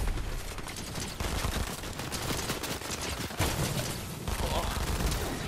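Rapid gunfire in a Fortnite match, dense bursts and volleys crackling close and continuously under game noise, with players talking over the shooting.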